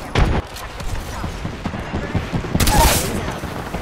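Gunfire rings out in Apex Legends, a run of loud shots and bursts with a heavy blast near the start and a brighter crackling volley later, dense combat sound throughout.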